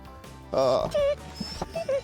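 A hunting dog, one of several brought along for raccoon, rabbit and squirrel hunting, gives a few close, high whimpering yips in short bursts, with a person's voice mixed in around them.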